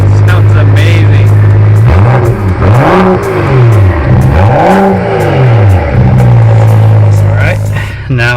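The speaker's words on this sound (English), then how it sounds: "I can definitely hear the exhaust already" A 2015 BMW 535i with its muffler deleted revs hard several times, the loud exhaust note climbing and falling in repeated sweeps before settling back to a throaty idle, close and dominant.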